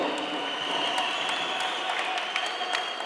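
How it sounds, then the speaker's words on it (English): At a multi-party voter registration event, a crowd claps steadily for its leaders, a dense, even patter that sounds slightly distant and carries a few sharper individual claps throughout. "Round of applause to our leaders."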